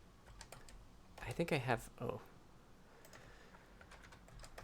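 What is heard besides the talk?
typing on a computer keyboard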